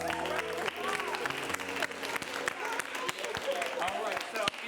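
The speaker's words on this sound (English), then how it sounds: "Give these little three little voices a round of applause." Audience applause at an improv comedy show, dense and sustained clapping from a crowd throughout, with voices mixed in.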